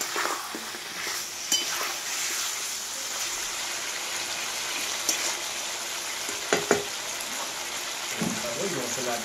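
Spice paste frying in a pan with water, a low steady sizzle with occasional scraping and clinking of a utensil, some quiet voices faintly underneath.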